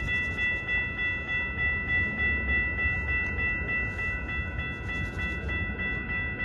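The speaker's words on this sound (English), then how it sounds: "Milwaukee West Main Line train number 2244 to Chicago Union Station is now arriving." A Metra Milwaukee West Main Line commuter train pulls into Franklin Park station with a sustained multi-tone horn blast over steady rolling rail rumble, heard close and loud without voices.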